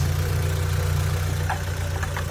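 A car's engine idles steadily up close with the hood open, a loud, even low rumble throughout, with faint metallic ticking and light background noise.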